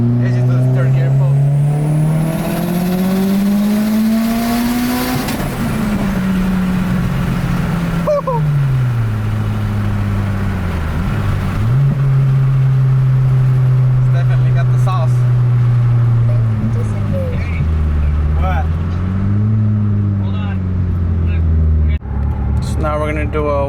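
A Mitsubishi Evo 9 engine roars loud and close through a third gear pull, pitch climbing steadily then dropping and rising again across shifts, with a voice talking over it.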